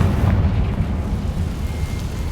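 A Confringo fire spell from the Hogwarts Legacy video game bursts into a loud, sustained explosive rumble, deep and booming throughout, with no voices over it.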